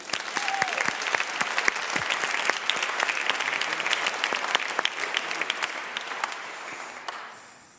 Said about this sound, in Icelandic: gefið þeim bara ennþá betra klapp